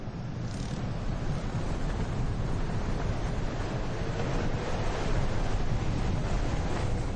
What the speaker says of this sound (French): Le vent souffle vraiment trop fort.